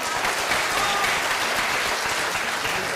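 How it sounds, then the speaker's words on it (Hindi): Steady, loud applause from a live comedy show audience, a continuous dense roar of many hands clapping with no pause and no one talking over it. "आपने मां के नाम पर ताली बजाई।"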